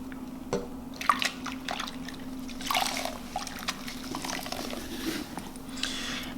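Foam cleaner poured from a cap into a bowl of warm water, giving soft trickles, drips and small splashes, close and moderately quiet, with no talk.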